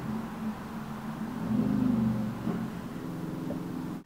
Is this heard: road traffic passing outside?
yes